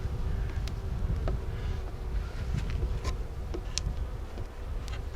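Honey bees buzzing around a backyard hive, a low steady drone close by with occasional individual bees zipping past and small ticking knocks from handling the hive.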